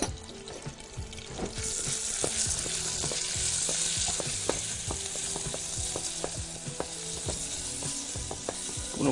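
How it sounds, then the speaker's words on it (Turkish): Minced meat sautés in a pan with a dense, steady sizzle and frequent scraping, clicking stirs of a utensil, close and continuous with no talk. "Sotelenirken kıymayı karıştırmaya devam ediyorum"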